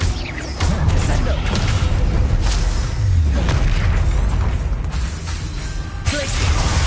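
A Descendo spell cast in Hogwarts Legacy on PS5 lands as a loud, dense booming impact within continuous rumbling combat noise and other spell blasts, the low thuds sustained across the whole stretch.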